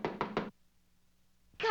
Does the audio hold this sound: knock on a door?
yes